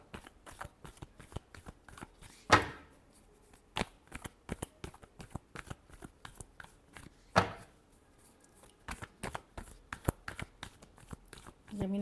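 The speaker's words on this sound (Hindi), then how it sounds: "जेमिनाई के लिए लास्ट शफल।" Tarot cards are shuffled by hand, a rapid string of soft papery riffles and snaps with two sharper bridging flutters, close and fairly quiet, while someone speaks over the shuffling.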